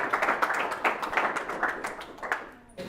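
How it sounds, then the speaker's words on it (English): An audience at an event in Pasadena claps in a lively burst, with dense hand claps rising and falling in waves before fading out near the end. "Clap it up, guys."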